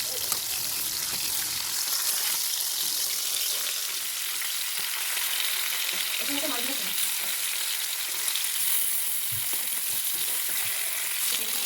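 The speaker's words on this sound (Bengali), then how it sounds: "আর ওদিকে মাছ ভাজা হচ্ছে।" Fish sizzling steadily as it fries in a pan in a home kitchen, a continuous bright hiss with a few soft clinks and stirring noises partway through, fairly quiet and with no talking.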